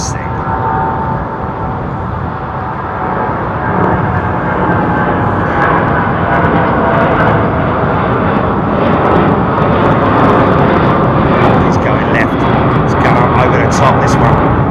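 A heavy airliner roars steadily at London Heathrow Airport, a loud, continuous engine rumble and whine holding for the whole stretch without letting up.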